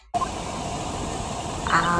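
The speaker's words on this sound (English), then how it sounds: "This is the sound of a hot air balloon." Inside the Ace Attorney Investigations 2 video game, a recording plays the steady broadband roar of a hot air balloon, a constant loud rushing hiss with a brief higher burst near the end.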